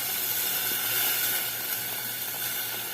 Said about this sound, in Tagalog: Mainit na yung tubig natin, guys, para mabilis siya maluto. Kaya yan, kumukulo na agad siya.